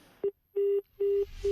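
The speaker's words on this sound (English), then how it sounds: "I'll just hang up that phone." A telephone busy signal after a call is hung up: four evenly spaced steady tones, clear and fairly loud, with silent gaps between them and no talking.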